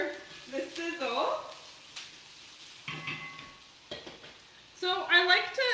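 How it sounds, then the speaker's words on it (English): Onions, garlic and spices sizzle and crackle in a hot pan, with stirring and a voice speaking over the frying throughout. "I hope you can hear me over the sizzle."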